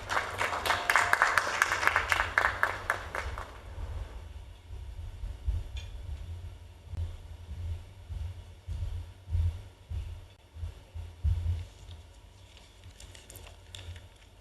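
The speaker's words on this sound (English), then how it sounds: "Let's welcome him with a round of applause." Audience applause welcoming a Stanbic Bank Ghana investment banking executive at a business meeting, loud and dense for about four seconds, then fading to scattered claps and room noise.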